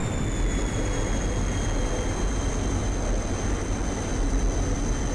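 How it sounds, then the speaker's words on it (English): Sustained jet engine roar of a MiG-21 fighter in the DCS World flight simulator during aggressive maneuvering, a steady loud wash with a faint high whine running throughout. "The rear pilot maneuvers the aircraft aggressively in all directions."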